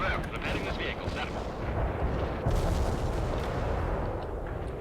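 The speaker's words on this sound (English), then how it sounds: "Oh, that was a big bomb." A big bomb explodes in the World in Conflict video game, giving a dense, rumbling blast and continuous low roar of heavy fire and detonations, loud and sustained, with a voice faintly under the din.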